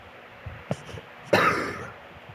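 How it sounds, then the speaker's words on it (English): A single short cough bursts out after a couple of faint clicks, then trails off into quiet breathy noise; close and moderately loud. "I keep coughing"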